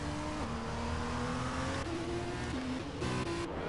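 An F2 race car in a racing video game pulls out of the pits at Italy, its steady engine drone holding and shifting pitch through gear changes, a continuous close mechanical hum with no voices over it.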